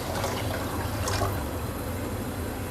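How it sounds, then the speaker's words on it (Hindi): Water is poured into a pot of chickpea pulao with rice and stock, making a continuous splashing gush that stays steady and fairly loud at close range, with no speech. "साथ ही अब हम इसमें पानी डाल देंगे"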